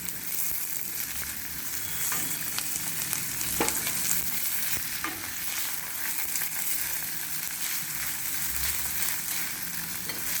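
Onion, chilli and curry leaves sautéing in oil: a dense, steady sizzle with intermittent scraping strokes and a few crisp clicks from stirring, continuing for several seconds without speech.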